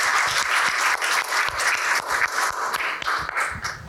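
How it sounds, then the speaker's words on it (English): Audience applauding presenters at the close of a data quality workshop session, a steady, fairly close burst of many hands clapping for about four seconds with no talk over it. "please give all of our wonderful presenters a big round of applause"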